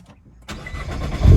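After a brief quiet moment, the engine of a 2018 Nissan GT-R cranks and catches, then revs up into a loud, deep rumble close by.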